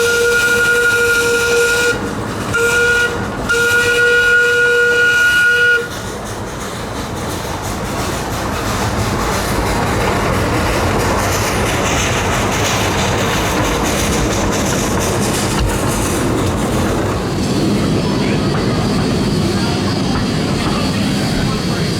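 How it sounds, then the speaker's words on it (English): A steam whistle on the Kittyland Limited, a small steam train at Hesston's Steam Museum, gives a few loud close blasts broken by short gaps, then gives way to a long stretch of rumbling train and outdoor noise. "finishing up with an awesome whistle blast from the Kittyland Limited"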